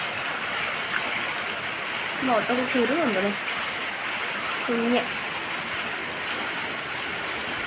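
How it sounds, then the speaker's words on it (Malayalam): Heavy rain pours in a steady, dense roar that fills the whole scene, with someone speaking briefly over it. "എന്ത് മഴയാണത്, ഒരു നാണവും മാനവും ഇല്ലാത്ത മഴ"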